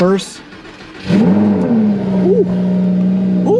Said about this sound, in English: This is like the best part about Lamborghinis. The sound is fantastic.